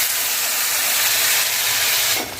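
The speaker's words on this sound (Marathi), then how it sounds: "पाण्याला आता उकळी सुद्धा आलेली आहे" Water at a rolling boil in a pot for cooking bhagar, a loud steady hiss and bubbling that holds level before tapering off at the end.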